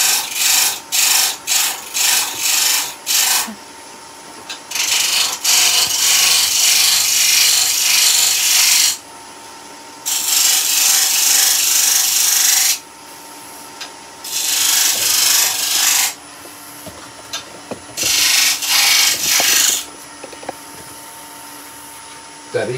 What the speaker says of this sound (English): Same thing again, we're just going to trim the outside edge.